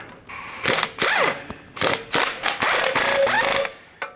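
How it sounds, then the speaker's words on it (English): A ratchet with an 18 mm socket tightens knuckle bolts during a lift kit install on a 2019-or-later Chevy or GMC 1500 truck, with loud, close bursts of rapid clicking separated by short gaps. "once you start tightening them up, they should kind of suck that knuckle down. So it's just an 18 millimeter socket."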